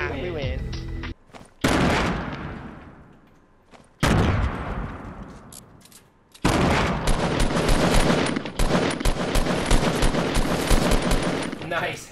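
Rapid automatic gunfire from Fortnite Battle Royale comes in loud bursts split by short gaps, then a long sustained stretch of fire, with players talking over the action.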